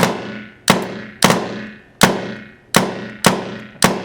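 A Tippmann 98 Custom PS paintball marker with a response trigger fires loud, close, single shots at an uneven pace, about six pops with short ringing tails, semi-auto rather than bursts.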